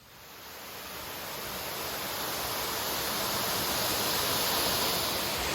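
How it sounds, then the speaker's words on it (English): Steady, broad rushing of a waterfall on a hiking trail, constant and fairly close, swelling slightly in loudness, with no voices. "Well, I'm back at the first waterfall."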